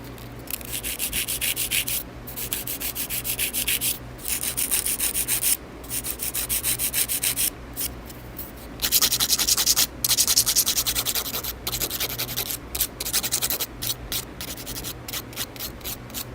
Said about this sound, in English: Just filing on the sides a little bit.